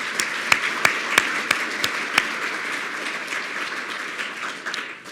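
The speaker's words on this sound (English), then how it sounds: "Let's also give them a round of applause." Audience applause at a university medical school address, with a few sharp, distinct claps standing out early, settling into a steady, moderately distant wash of clapping that gradually fades.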